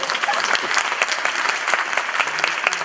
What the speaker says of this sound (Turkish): Kızların alkışlaması ayrı yeter sevindim.